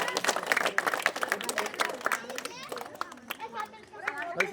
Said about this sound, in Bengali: হাততালি কই হাততালি দাও